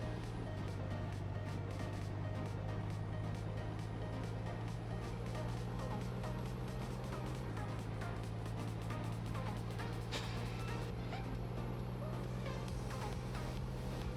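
A truck's engine drones steadily while it drives in a video game. The low hum holds an even pitch, shifts once partway through, and stays under faint background noise with no clear pauses.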